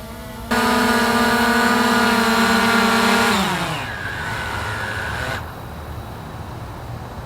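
A DJI Mavic Air 2 drone hovers close by with a loud, steady high-pitched propeller whine, and partway through the pitch sweeps downward and the buzz drops in level as it drifts.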